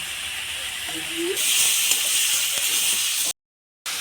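A splash of water poured into a hot pan of spices with salt, turmeric, cumin powder and chili powder, bursting into a loud, steady hiss that carries on before cutting off abruptly.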